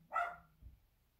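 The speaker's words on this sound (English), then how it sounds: "that's puppies, sir, said Sergeant Tibbs" A single dog bark, sharp and fairly close, followed by a fainter low yelp, in the setting of puppies barking at an old house.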